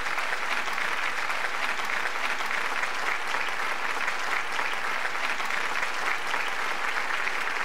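A concert audience applauds to welcome a singer at an anniversary concert, a dense steady wash of many hands clapping that holds evenly for several seconds.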